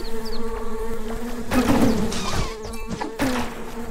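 A swarm of bees buzzes loudly and continuously in the retro RPG Secrets of Grindea, a dense droning hum with louder surges and brief game effect noises layered over it.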